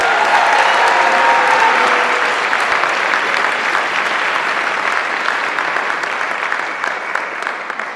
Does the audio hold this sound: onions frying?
no